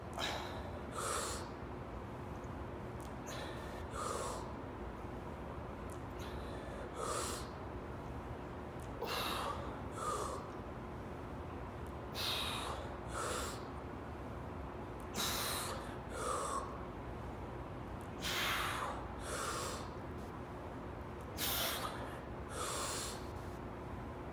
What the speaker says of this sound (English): check out this upcoming set here, and you'll hear my breath